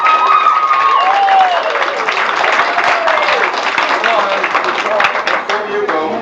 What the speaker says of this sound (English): let's hear you clap